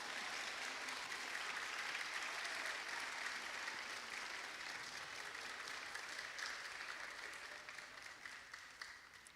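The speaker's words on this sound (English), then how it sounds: "Okay, you can clap." An audience applauds middle school choir students at a Gulf Shores school choir concert, with steady, dense clapping from a crowd that holds evenly for the whole stretch and tapers only slightly at the end.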